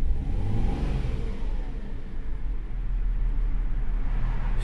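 A Volvo car engine revved with the throttle while the owner works to get it running, a loud, close, rough rumble that rises and holds steady, with no talking.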